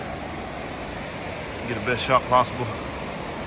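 Sols Creek Falls waterfall at high flow after recent rains, a broad constant rushing roar filling the background while a person speaks briefly over it.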